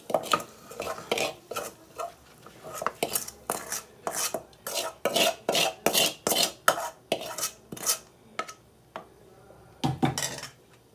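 Repeated rhythmic scraping and clanking of a utensil mashing cooked moringa greens with dhal in a metal pot, steady strokes close by.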